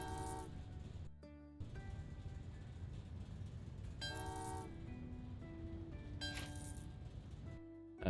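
Trains in the puzzle game Train Valley 2 move along their tracks to a steady rumbling bed, with several bright horn toots breaking in near the middle and end, loud and close, and no voices.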